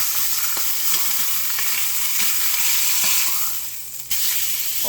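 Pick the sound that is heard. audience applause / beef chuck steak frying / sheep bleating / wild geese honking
beef chuck steak frying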